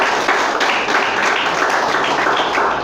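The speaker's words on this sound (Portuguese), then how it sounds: "Quem crê pode aplaudir e glorificar." A church congregation applauds together, a loud, dense wash of clapping hands close by that runs without pause, with a few sharper claps standing out from the mass.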